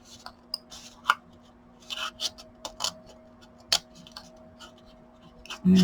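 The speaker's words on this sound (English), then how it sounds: "you'll need some fairly sharp, smaller scissors for this" Small, sharp scissors snip paper for a Christmas gift tag in irregular crisp clicks and cuts, close up in a quiet room, ending with a louder thump.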